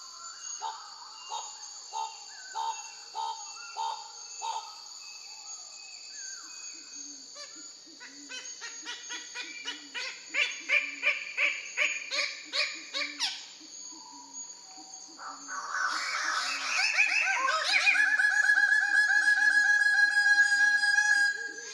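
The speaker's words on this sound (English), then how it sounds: "a male Goldie's bird of paradise, a high-dwelling canopy species that makes a wonderful array of vocal and visual displays during its courtship" A male Goldie's bird of paradise, a high-dwelling canopy species, gives a varied run of courtship calls: rhythmic repeated notes building into fast bursts, then dense buzzy chattering with thin whistles, fairly close and continuous with no voices.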